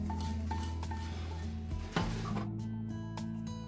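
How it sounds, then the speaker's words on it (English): Cooked spinach is stirred into dal in a pot, with soft scraping, a single knock of a utensil against the pot, and a steady hum in the background. "Mix the spinach with the dal"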